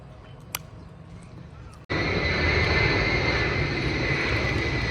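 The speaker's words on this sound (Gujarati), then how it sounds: "પ્લેન પણ દેખાય કેટલું નીચું છે" A loud, steady engine roar suddenly swells in after a quiet moment and holds, as a low-flying airplane passes close overhead, heard from a home courtyard.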